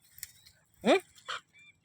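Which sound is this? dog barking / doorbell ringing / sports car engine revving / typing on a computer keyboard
dog barking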